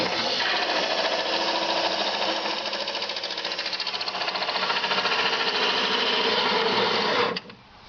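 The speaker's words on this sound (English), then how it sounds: "Got my drill on there, just to drill through there." An electric drill drives a Makita MLT100 table saw's blade tilt mechanism through its soaped alloy threads, a loud, steady, close-up motor drone with rapid rattling that runs for about seven seconds, then cuts off abruptly.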